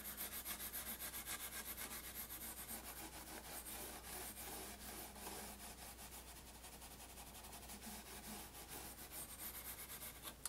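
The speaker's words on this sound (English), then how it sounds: "Just wipe down the fretboard." A pad lightly wiping down an acoustic guitar fretboard makes a faint, continuous soft rubbing with quick repeated strokes, heard alone and close.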